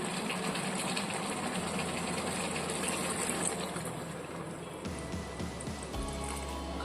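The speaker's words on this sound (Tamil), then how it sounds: "இப்போ இந்த மீன் குழம்புக்கு தேவையான தண்ணி சேர்த்துக்குவோம்" Water pours and trickles steadily into a pot of fish curry with a wet, splashing hiss, a low hum joining near the end.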